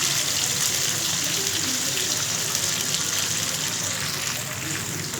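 Cabbage sautés in hot oil, giving a steady, dense sizzling hiss that holds at an even level throughout with no pauses.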